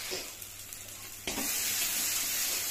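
Spice masala for a Bengali bata fish jhal fries in oil with water added, giving a steady broadband sizzle that jumps louder about halfway through and keeps hissing evenly, close and with no voices.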